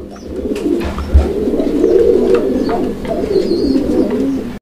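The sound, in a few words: Lahori pigeons cooing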